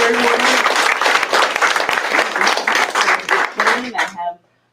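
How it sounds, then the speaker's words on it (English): A large audience bursts into sustained applause, many hands clapping loudly and densely for several seconds before the sound cuts off abruptly at the end. "Can we have a round of applause for this great woman?"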